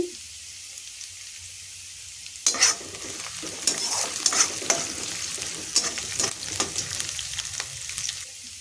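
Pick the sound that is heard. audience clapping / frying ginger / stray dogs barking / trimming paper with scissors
frying ginger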